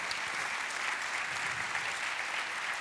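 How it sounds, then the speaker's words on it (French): Thunderous applause fills a hall at an agricultural awards ceremony as a farm partnership receives its organic gold prize, a dense, steady wash of clapping from a large audience throughout, with no speech over it. "Alors là, tonnerre d'applaudissements."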